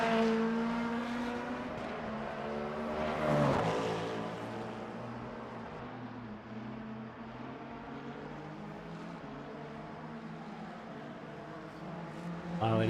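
Engine of a Lamborghini V8 race car, 2024, in the racing game Le Mans Ultimate at Imola circuit, a steady high revving drone with gear changes and a sharp rise near the middle, under a man's speech.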